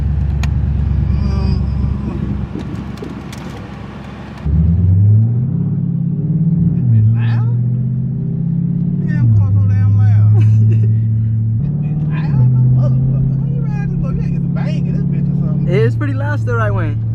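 A Dodge Challenger Scat Pack with mid muffler and resonator delete rumbles loudly, a deep idle that swells into revs and falls back several times, while people talk over it.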